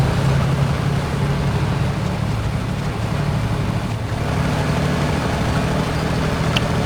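Diesel engine of a T-72 tank idling in the Squad video game, a steady loud low rumbling drone with constant mechanical noise across the whole stretch, no speech over it.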